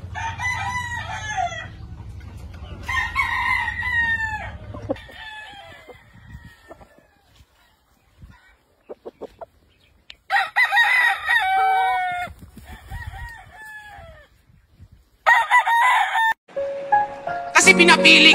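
Roosters and chickens kept as gamefowl crow repeatedly in bursts with pauses, the calls fairly close and loud, mixed with clucking and a low background rumble early on.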